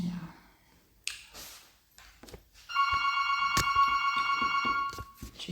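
A mobile phone rings with a steady electronic tone for a few seconds, fairly close, after some faint handling noises in a quiet room.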